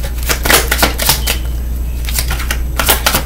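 Tarot cards are riffled and shuffled in quick, crisp bursts of papery clicks, with a short pause in the middle before another flurry.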